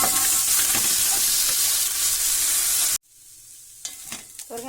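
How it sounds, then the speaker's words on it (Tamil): Radish pieces stirred and dry-roasted in an empty pan give a loud, steady sizzling hiss with scraping, then it cuts out abruptly, leaving quiet scrapes and clatters of the spoon. "வெறும் சட்டியில நல்லா வதக்கணும்"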